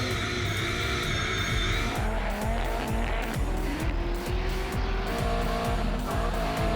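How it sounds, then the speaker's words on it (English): A drift car, a Nissan S15 among the field, does victory skids at Wakefield Park during a drift series round, its engine revving hard in repeated rising bursts while the tyres squeal continuously, loud and close. "but first some victory skids"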